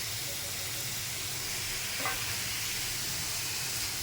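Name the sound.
frying taro flowers with turmeric and salt in pan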